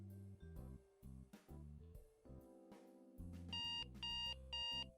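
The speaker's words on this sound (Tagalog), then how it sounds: "When the buzzer sounds" A washing machine's end-of-cycle buzzer sounds alone as a series of electronic tones, ending in three loud, evenly spaced repeated beeps.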